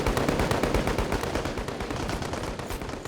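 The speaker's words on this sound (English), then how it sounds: "This heavy machine gun is still firing away at the Russian infantry." A heavy machine gun in a war video game fires in a dense, continuous rapid burst, loud and close, with overlapping shots and no voices throughout.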